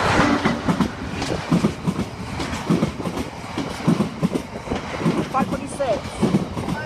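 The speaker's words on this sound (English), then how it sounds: "That's passed straight through platform number 1 at Scunthorpe" A freight train runs straight through platform 1 at Scunthorpe station, hauled by a class 66 locomotive, giving a loud, continuous rumble with rhythmic clickety-clack of wagon wheels over rail joints and faint background voices.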